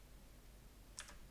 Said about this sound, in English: And I'm typing in